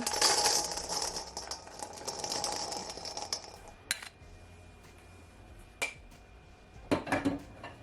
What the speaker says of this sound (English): I'm just gonna add my raisin to my bowl